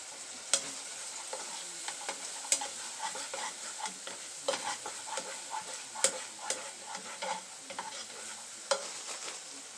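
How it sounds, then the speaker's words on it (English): Onions sizzling in a pan for a coconut curry sauce, with constant frying crackle and frequent close clicks and taps of a utensil stirring throughout, no voices. "Onions is cooking up for that sauce."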